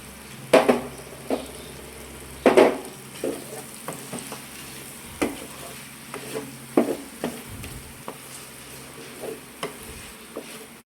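Chicken frying in a pan while garam masala, chicken masala and coriander powder are stirred in: soft constant sizzle under sharp, irregular scrapes and clinks of a spoon against the pan, close and fairly quiet.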